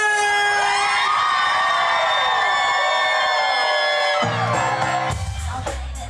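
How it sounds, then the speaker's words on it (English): Concert audience screaming, whooping and cheering loudly, a dense sustained wall of many voices that thins slightly in the last couple of seconds. "Somebody scream!"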